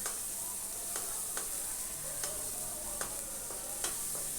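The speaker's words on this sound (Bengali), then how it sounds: "টমেটোটা একটু কষিয়ে নিলাম" Tomatoes and spices sauté in a pan for vegetarian tarka dal, giving a steady close sizzle with spoon strokes scraping the pan at irregular intervals, no voices.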